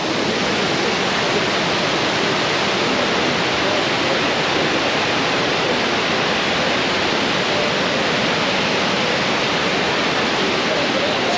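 A waterfall at Krka National Park roars as a loud, dense, constant rush of falling water that fills the whole scene without pause.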